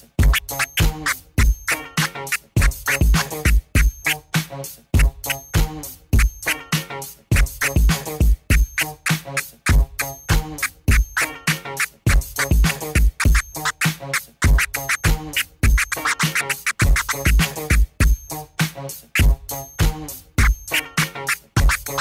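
A DJ performs rapid chirp scratches on a turntable over a steady beat, with sharp, rhythmic cuts repeating continuously for about twenty seconds.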